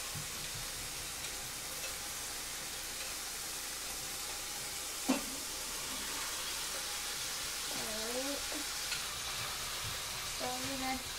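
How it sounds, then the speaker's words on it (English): Ground beef sizzles steadily in a frying pan in a home kitchen, a continuous close frying hiss with a few brief clanks and scraping stirs from a utensil. "So now that that's sizzling, we're going to go ahead and add this ground beef."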